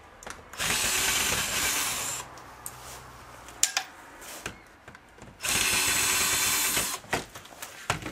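A power drill spins out screws while a dual window fan is taken apart for scrap, two long loud whirring bursts with a short buzz between them and light handling clicks in the gaps.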